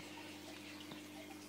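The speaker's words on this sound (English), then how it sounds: "it's time to add the water back into the tank" Water is poured back into a marine nano reef tank, a soft, steady rushing splash that is faint and brief.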